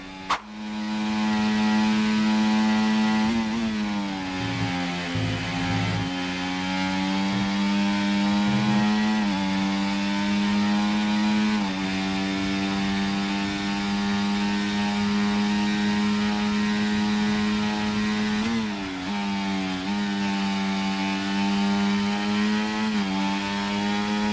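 An F1 24 car screams flat out around Monza in the video game, a loud, steady high-revving engine drone held at full throttle, with brief dips and pitch drops at gear changes and braking points.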